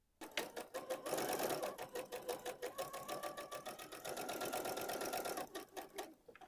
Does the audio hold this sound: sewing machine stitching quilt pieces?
yes